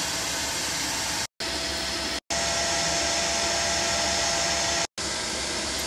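A DeLonghi MultiFry FH1396 air fryer running with salmon inside, giving a loud, steady fan-like whir that cuts out abruptly three times and restarts.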